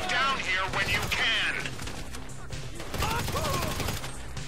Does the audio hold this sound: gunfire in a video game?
yes